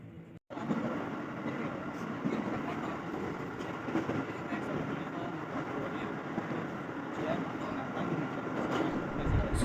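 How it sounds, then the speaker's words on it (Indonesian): A steady rumble and rattle fill the inside of a moving commuter train bound for Jakarta Kota station, with people talking faintly in the background. "Sekarang saya sudah berada di dalam kereta tujuan stasiun Jakarta Kota"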